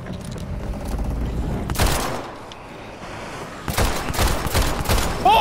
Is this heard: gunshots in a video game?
yes